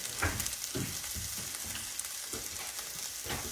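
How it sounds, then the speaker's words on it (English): Sausages frying in a pan give a steady, close sizzle with short bursts of crackle and stirring knocks, and no voices. "I'm cooking me sausage"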